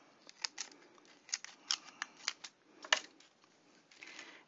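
Scissors snipping down the middle of a plastic mold, a close series of about a dozen crisp, irregular cutting clicks with short pauses between them.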